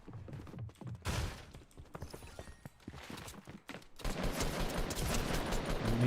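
Hand cannon gunfire in a video game: sharp, heavy shots crack out at irregular intervals among quieter clicks and movement, then a louder sustained stretch of gameplay noise fills the last two seconds.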